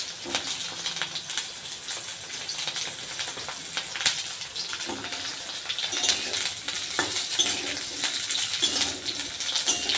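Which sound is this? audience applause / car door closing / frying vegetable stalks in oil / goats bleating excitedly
frying vegetable stalks in oil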